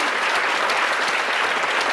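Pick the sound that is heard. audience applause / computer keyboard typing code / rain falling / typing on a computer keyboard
audience applause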